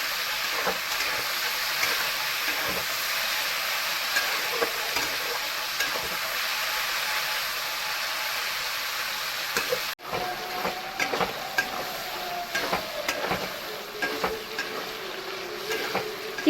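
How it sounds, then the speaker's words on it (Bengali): Shrimp frying in hot oil until lightly reddened, a continuous close sizzle and crackle with occasional stirring clinks, heard alone without speech. "চিংড়ি মাছটা আমার হালকা লাল করে ভাজা হয়ে গেছে"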